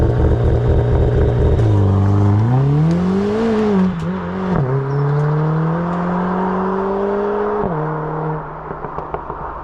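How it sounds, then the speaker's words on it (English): A car uses launch control and pulls away hard, its engine revving up loudly, with a couple of quick dips between climbs as the pitch rises and holds, before it fades off. "let's see our launch control"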